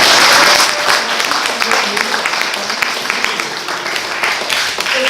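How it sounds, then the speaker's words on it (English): A crowd at an outdoor protest rally in Philadelphia gives a loud round of applause, dense clapping at its strongest at the start and then settling into a steady, slightly softer wash, with a few raised voices mixed in. "can we do a round of applause for Julia Wright?"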